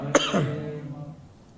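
A single sharp cough, followed by a short throat-clearing rumble that fades away, close and fairly loud, with no talking.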